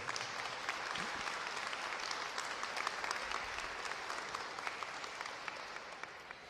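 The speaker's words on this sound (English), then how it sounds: "Let's give the governor a round of applause." A crowd at an Illinois tourism campaign announcement applauds Governor JB Pritzker, a dense, steady wash of many hands clapping that holds for several seconds and eases slightly toward the end.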